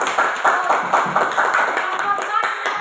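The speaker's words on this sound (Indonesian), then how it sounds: "tepuk tangan untuk Samira." Classroom applause in an elementary school, a lively burst of many hands clapping in a loose rhythm for a few seconds, with children's voices mixed in.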